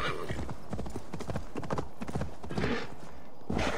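Steady, rapid clip-clop of horse hooves from a ridden horse in the video game Assassin's Creed Valhalla, close and continuous over game ambience.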